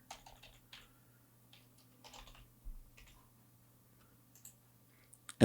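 Scattered keystrokes on a computer keyboard, a few soft clicks in short irregular bursts with pauses between, faint and close, over a low steady hum with no talking.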